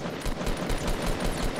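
Rapid automatic gunfire rattles off in a fast, even burst of close, punchy shots in a shooter video game, continuous through the whole stretch with no voices over it.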